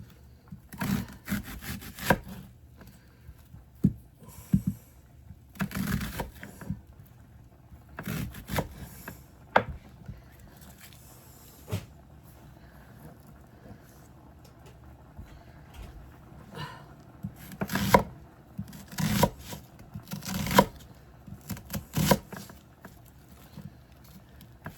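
A knife chops onion on a wooden board at home while a Sunday dinner is cooked. Irregular bursts of cutting strokes come close and moderately loud, with pauses between them and no talking.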